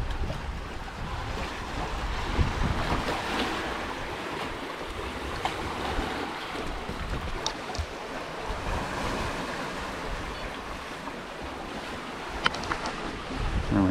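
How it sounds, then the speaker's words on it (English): Steady wash of waves and wind around a Trimaran F36 sailing downwind in light wind off Baja, with a continuous rushing hiss of water along the hulls and occasional faint knocks, no voices. "It's light wind, downwind sailing."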